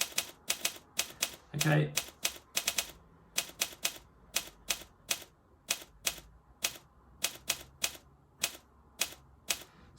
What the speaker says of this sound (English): That's how you create kind of a basic typewriter effect.